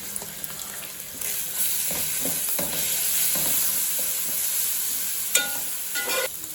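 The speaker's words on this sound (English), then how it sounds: "Now fry for another 2 minutes" Chicken pulao with cashews sizzles steadily in a pan while a spoon stirs it in several short, scraping strokes. The frying hiss is close and moderately loud.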